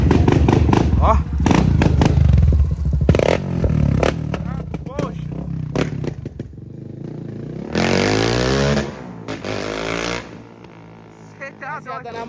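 A 2023 Honda CB300F Twister motorcycle fitted with a Dore exhaust revs in loud bursts, engine roar swelling and dropping between gaps, with people talking nearby.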